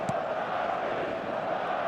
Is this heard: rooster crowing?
no